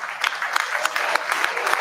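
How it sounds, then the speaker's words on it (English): Raucous applause from the audience closing a talk at the annual Chaos Communication Congress in Hamburg, Germany, a dense steady wash of many hands clapping with scattered sharper claps, close and loud throughout. "You hear the applause"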